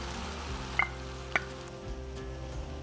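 Onions and red cabbage frying in a pan, a steady soft sizzle with two sharp utensil clinks against the pan, close and moderately quiet, no talking.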